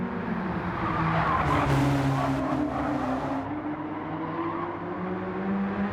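Race car tyres squeal in a long slide during a racing video game, a loud sustained screech over steady engine drone that rises and then eases off.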